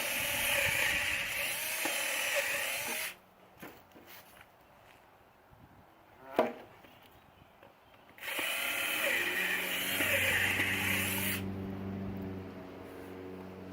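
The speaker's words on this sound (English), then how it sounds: "I'm going to drill a 1/2-inch hole through the post." A power drill whines steadily, drops out for a few seconds with a single clunk, then bores a half-inch hole into a wooden fence post with a rising, straining pitch.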